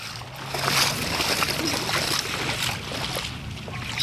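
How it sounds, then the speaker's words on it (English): A car driving through flood water during a storm sends up sloshing, splashing water in continuous uneven surges, fairly close, with faint voices underneath. "It's one of those people that like to drive in water like me."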